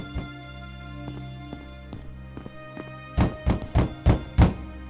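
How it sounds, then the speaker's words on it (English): Banging inside the Legendary Tales VR game, heard as a series of hollow thunks. A few light knocks come first, then five heavy, evenly spaced thuds follow in a quick run, over a low steady background hum. "I can hear someone banging."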